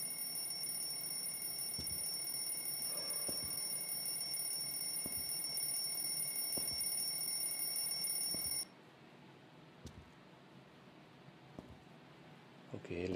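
A steady, high-pitched electronic alarm rings continuously in the horror video game PigHead Maniac, then cuts off abruptly, leaving quiet game ambience with soft thuds.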